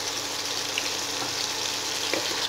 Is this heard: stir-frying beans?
yes